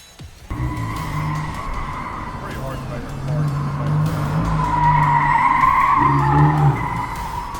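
The University of Alabama EcoCAR 3 competition car squeals its tires on a skid pad, a sustained loud screech over engine noise that builds and holds for several seconds while someone talks.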